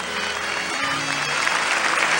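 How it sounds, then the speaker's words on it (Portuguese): A church audience applauding during a Catholic healing talk, a dense, steady wash of many hands clapping at moderate distance, continuous throughout. "Se é para o Senhor, você pode aplaudi-lo com mais força."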